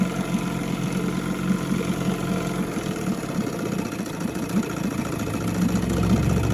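A 1972 Evinrude Fisherman 6hp outboard engine idles cold after a carburetor service, a steady close putter with fast rhythmic firing that continues throughout and no talk over it.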